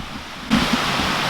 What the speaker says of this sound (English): the creek. You can probably hear it more than you can see it